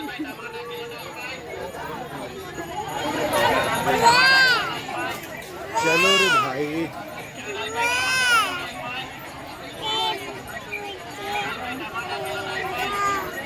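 Busy, crowded vegetable market with a steady wash of overlapping voices and chatter, occasional louder calls rising above the throng, and people talking nearby throughout.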